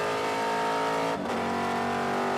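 TA2 race car at Mid-Ohio under power, a loud, steady engine roar with dense harmonics, a brief dip around a shift, then pulling hard again, with no talk.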